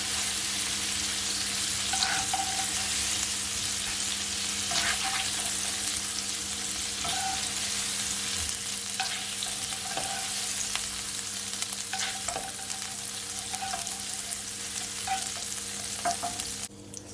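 Shrimp fry in a pot with a steady, close sizzle of hot oil, broken now and then by faint stirring clicks; there is no talk.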